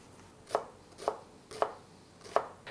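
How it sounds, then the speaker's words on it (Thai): Half an onion is chopped into small pieces with a knife on a cutting board, four evenly spaced thuds about half a second apart, close and clear with no talking. "หอมใหญ่นะฮะปนใช้ประมาณครึ่งลูกนะครับ เราก็ หั่นเข้าเป็นชิ้นเล็ก ๆครับ"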